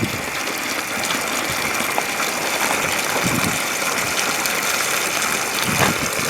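Water gushes fast through an open RV drain valve during winterizing, a loud, steady rushing flow with faint mechanical clicks underneath, continuous and close.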